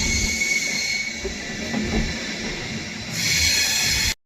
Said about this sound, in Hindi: और करीब 2 मिनट के हॉल्ट के बाद यहाँ से खुल गई अपनी ट्रेन।